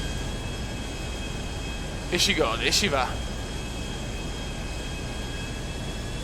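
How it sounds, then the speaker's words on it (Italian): A jet taking off in Grand Theft Auto V, a steady broadband roar that runs throughout, with someone speaking Italian over it for a moment midway. "Con il nostro jet kumendiano."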